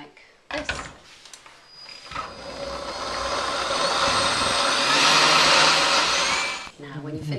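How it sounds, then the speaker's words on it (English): Pumpkin-apple soup whirring in a kitchen blender: a brief start, then a loud continuous motor roar building steadily for several seconds before cutting off near the end. "transfer them in batches to a blender and blend really, really smoothly"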